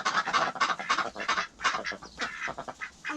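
Ducks and drakes quack in a busy overlapping chorus of honking calls, close and fairly loud, with short pauses between bursts and no one talking.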